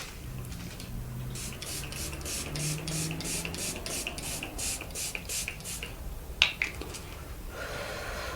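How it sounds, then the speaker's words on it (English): Makeup setting spray misted over a finished face, a series of short, rapid hissing pumps close by, with quiet room tone and a faint breath. "I will just put my setting spray on just to set my whole makeup"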